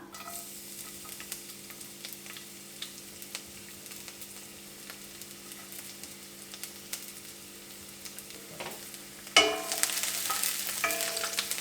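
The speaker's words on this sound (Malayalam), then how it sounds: "ഇതിലേക്ക് ഞാൻ വെളുത്തുള്ളി ഏകദേശം 1 ടേബിൾ സ്പൂൺ നീളത്തിൽ അരിഞ്ഞ് വെച്ചിട്ടുണ്ട്, അത് ഇട്ട് കൊടുക്കുകയാണ്" Long-sliced garlic hits hot sesame oil for vegetable Hakka noodles, giving a soft, steady background sizzle that swells into a louder, brighter frying hiss near the end, with no talking.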